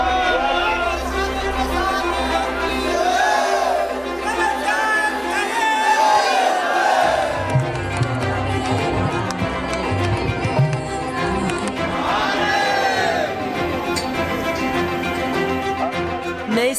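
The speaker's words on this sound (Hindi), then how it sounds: "मंदिरों में भीड़ भारी भरकम" Crowd of devotees at a temple in Mathura on New Year: steady crowd murmur and chatter throughout, with overlapping voices and a low rumble, fairly loud and close.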